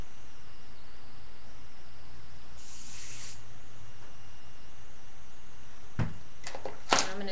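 Hair spray is sprayed onto a curly updo in one short hissing burst, close and moderately loud, over a quiet room hum. Faint handling noises follow near the end.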